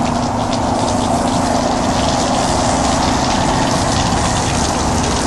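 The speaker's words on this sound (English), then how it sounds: "Turn the hose on full blast." A garden hose runs at full blast into flushing muffs on a Yamaha 115 hp outboard, giving a loud, close, steady rushing gush of water with a faint mechanical hum underneath and no talking.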